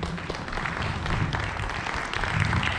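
An audience at an arts academy event applauds the guitar teachers with dense, sustained clapping and crowd noise. A voice or two carries faintly under it.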